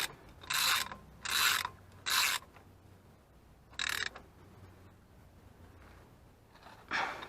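A ratchet clicks in five short, close bursts while pre-tightening the front brake caliper bolts on a Renault Mégane 3, with quiet pauses between strokes.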